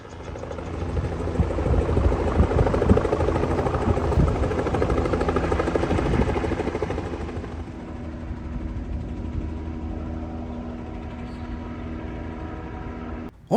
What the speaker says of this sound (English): On top of the nearby medical center, a helicopter was preparing to lift off.